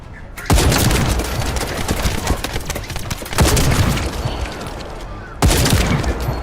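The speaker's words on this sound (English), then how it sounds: "let's try using my sniper rifle" Sniper rifle shots fired in the video game The First Descendant: three loud, booming reports spaced a few seconds apart, each trailing into a dense wash of ongoing gunfire and combat noise.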